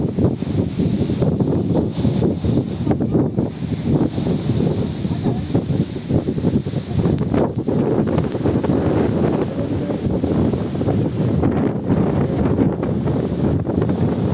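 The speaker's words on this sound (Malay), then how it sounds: "Angin kuat." Strong wind buffets the microphone in steady, rumbling gusts near Arrowtown, New Zealand, with a faint wash of surf in the background.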